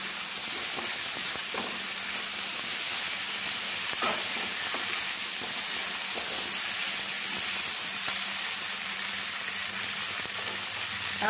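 Drumstick vegetables and tomato fry in a pan with a steady, loud sizzle and hiss. Occasional stirring scrapes come through, and no one speaks.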